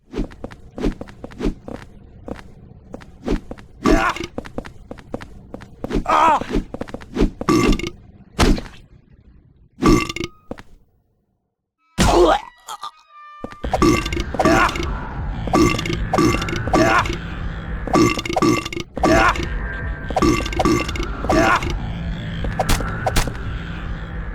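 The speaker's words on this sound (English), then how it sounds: "I don't know who came up with the idea of a burping monster" A monster in the Silent Hill 4 horror game lets out repeated loud, wet burps when struck, sounding in bursts amid thuds and footsteps, with a short silence partway through.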